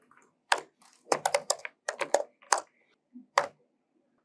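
Someone types commands on a computer keyboard, close and fairly quiet, with irregular bursts of crisp keystroke clicks separated by short pauses.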